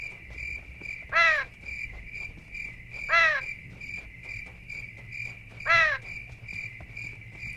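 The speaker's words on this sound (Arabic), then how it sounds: "عارف انت صوت صرصار الحقل." Crickets in PUBG Mobile give a steady, continuous trill across the whole stretch. Three louder bird-like calls cut in at intervals over it, and no voices are heard.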